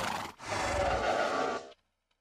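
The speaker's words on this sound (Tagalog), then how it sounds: "Ah... Yung mga kabayo ko pala." Horses neigh in a Minecraft-style video game, one loud whinny running about a second and a half after a short lead-in sound, then silence with a faint click.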